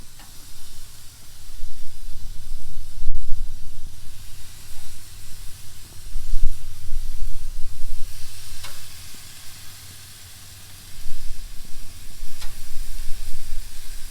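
Shrimp skewers sizzle on a hot Weber grill beside melting butter, a steady broadband hiss swelling and easing over several seconds, close and fairly loud with no talking.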